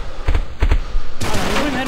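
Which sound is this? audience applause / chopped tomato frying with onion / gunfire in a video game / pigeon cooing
gunfire in a video game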